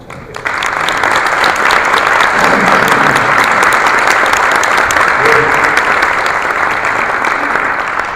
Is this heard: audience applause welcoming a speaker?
yes